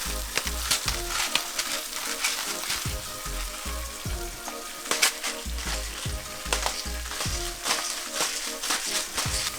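Beef frying in a cast iron pan with salt, pepper and Chinese five-spice, giving a steady close sizzle and crackle with periodic scraping and stirring knocks throughout, no talking.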